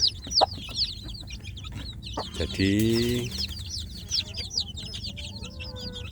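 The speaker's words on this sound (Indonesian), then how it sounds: "memelihara anak ayam kampung dalam box dengan induknya ya" A free-range village mother hen clucks among her chirping chicks kept in a box, with rapid close peeping throughout and a louder drawn-out cackle in the middle, and a brief spoken word.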